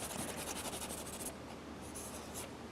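A pen scratches and rubs across paper while drawing, close and soft, with quick repeated strokes, then lighter scratching, no voices.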